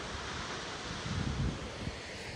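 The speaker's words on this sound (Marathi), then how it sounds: "आणि हा समुद्र, अथांग पसरलेला समुद्र." Sea waves wash against the coast near Janjira and Murud, a continuous broad surf wash mixed with wind buffeting the microphone, with a slightly louder swell in the middle.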